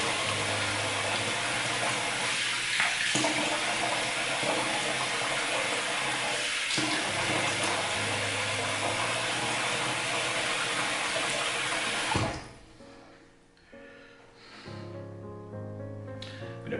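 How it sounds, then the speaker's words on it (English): Steady rush of warm water pouring from a tap nearby during a shave, continuous and loud, then abruptly cut back to a softer, irregular trickle and splashing. "Start with a little bit of warm water."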